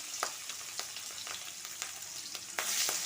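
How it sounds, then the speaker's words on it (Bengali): Hilsa fish frying in oil, a bright close sizzle with sharp spattering pops at intervals, swelling louder toward the end, with no talking. "মাছটা একটু ভেজে নেব অল্প করে ভাজবো ইলিশ মাছ"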